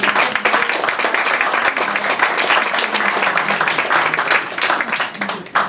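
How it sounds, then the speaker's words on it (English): Wedding guests give a big round of applause during the groom's speech, producing dense, loud, sustained clapping from a close indoor crowd that lasts several seconds, with some voices mixed in. "Big round of applause for Uncle Ernie."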